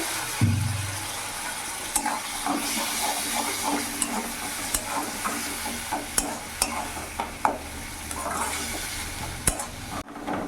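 Ginger-garlic-chilli paste sizzles and hisses steadily in a pan with a little water as a spoon stirs it, with scattered scraping taps and clinks throughout, up close.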